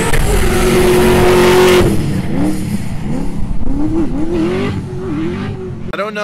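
Drift cars at D1 Autopolis in 2018 scream through a high-speed corner entry, the engines loud and sustained, revving and bouncing off the limiter, with a brief tire squeal and faint voices under the roar.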